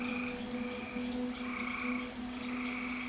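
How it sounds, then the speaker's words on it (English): Frogs croak continuously in a wilderness setting, a dense droning chorus with steady tonal calls layered over constant night-time ambience and no other sounds. "its silence punctuated only by the occasional croak of a frog or the distant hoot of an owl"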